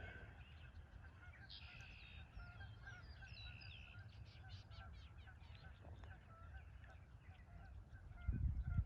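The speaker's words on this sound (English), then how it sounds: "Hear the geese." Geese honking at sunset, a few distant honks over low outdoor rumble with faint talk, a louder thump at the end.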